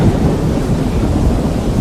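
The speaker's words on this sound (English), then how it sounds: "We got the thunder going on." Thunder rolls loud and continuous in a deep, rumbling wash that fills the whole moment, with no voices over it.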